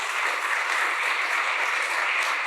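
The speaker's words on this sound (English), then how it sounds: "can we have a round of applause for that?" Sustained audience applause at a spiritual talk, steady and dense throughout, a full room clapping continuously with no voices above it.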